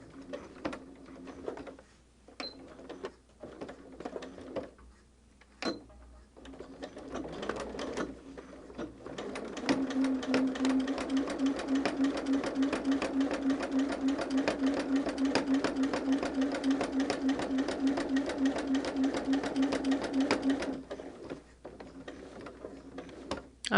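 Sewing machine stitching a holiday table runner, a few short starts and stops for forward and back stitches, then a steady close run of rapid even stitching for about ten seconds before slowing again.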